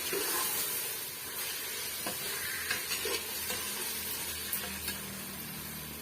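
Mint and coriander leaves sautéing in a pan for chicken biryani made in a pressure cooker, a dense steady hiss and sizzle up close with faint stirring strokes, no talking.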